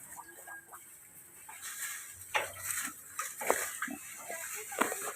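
Pigs in a pen with a tarpaulin roof, low grunts and snorts scattered irregularly over a steady hiss of background noise, fairly close.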